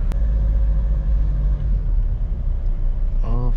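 Car engine at full throttle in second gear, climbing a steep ghat road toward Ooty: a steady, heavy low rumble and drone from inside the cabin that holds for several seconds, with a brief tonal squeal near the end.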